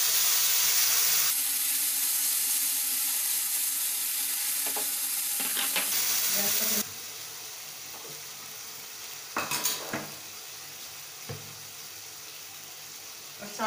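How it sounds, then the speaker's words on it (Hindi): Tomato puree sizzles loudly in a hot pan with cumin while cooking a Navratri fasting dish, a steady hiss that drops in level partway through, with spoon clinks and stirring scrapes against the pan. "अब मैं इसमें जो टमाटर की प्यूरी वो डाल देती हूँ"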